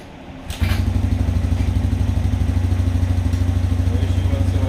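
A 1987 Yamaha Moto 4 ATV engine catches and settles into a steady, loud, close idle with a rapid, even low thumping beat that continues unbroken.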